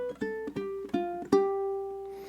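Ukulele plays a short eastern-flavored duet phrase: four plucked notes stepping across the strings, close and clean, with the last note left ringing out.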